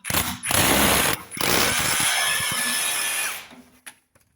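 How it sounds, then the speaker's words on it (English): Big impact drill boring into a boxed eave, a loud high whine in two bursts, a short one and then a longer run of about two seconds, ending with a few faint knocks. "now I've got a big, obviously, impact drill"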